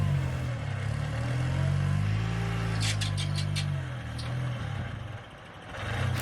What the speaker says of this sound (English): Jesse Haynes is in his rear engine competition buggy, and since the engine's in the rear, he's going to drop into this hole going forward.